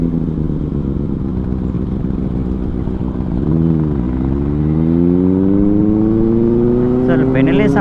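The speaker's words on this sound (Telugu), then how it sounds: "అసలు బెనిలీ సౌండ్ నెక్స్ట్ లెవెల్." Benelli 600i motorcycle ridden at night, its engine and exhaust giving a loud, steady drone with rising and falling pitch as it revs and accelerates, nearby and continuous throughout.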